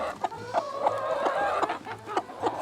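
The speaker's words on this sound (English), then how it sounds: "Watch out for the rooster." Chickens cluck in short, repeated bursts close by, a busy farmyard chorus of several birds with quick, uneven rhythm.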